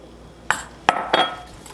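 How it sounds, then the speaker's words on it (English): A utensil clinks against a bowl while whipping cream and egg yolk are stirred together: three separate sharp taps spaced unevenly over a quiet background, close up and with no voices. "So I stir that little bit of whipping cream and that little bit of egg yolk together"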